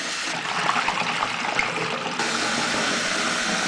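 Steady running water rinsing and draining cooked naengmyeon noodles after a hot then cold water bath, a continuous close splashing wash with no talk.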